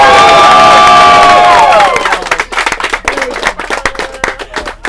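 A large crowd at a trading event in a card shop cheers and whoops loudly, then breaks into ragged, close clapping that thins out over a few seconds.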